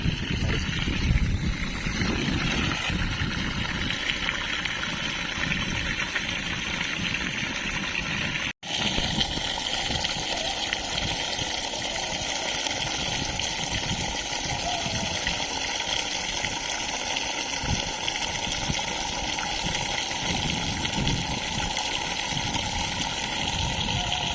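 Water gushes steadily into a borewell for recharging, a constant splashing rush with a faint mechanical hum and one brief cut in the middle.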